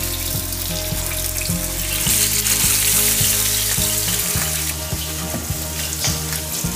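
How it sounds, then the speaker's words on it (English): Salmon fillet laid skin-side down in hot cooking oil in a pan, sizzling and frying steadily and loudly up close, with a continuous crackling hiss throughout. "Just lay away from you so the oil doesn't splash up."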